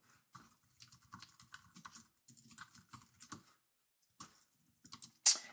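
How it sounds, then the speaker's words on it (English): Quick bursts of typing on a computer keyboard, close and fairly quiet, the clicks coming in uneven runs with short pauses, ending on one louder key strike. "And I'm going to type in PHP"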